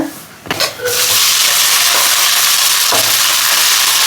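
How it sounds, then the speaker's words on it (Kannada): Cooked rice tipped into a hot pan of browned green chillies for coconut rice, frying in a loud, steady sizzle with a short clatter of it going in and stirring scrapes throughout. "ಅನ್ನ ಹಾಕ್ಕೊತಿದ್ದೀನಿ"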